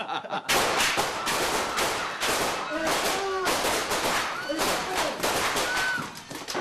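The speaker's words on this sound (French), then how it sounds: "cette fusillade si violente que même nous on a eu les chocottes au moment du tournage" Staged gunfire for a French spy-comedy film shoot on set: dense, rapid bursts of shots crackle loud and close, with short gaps between volleys and voices shouting over the firing.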